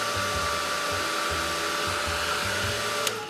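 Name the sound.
hair dryer drying paint on a Bible journaling page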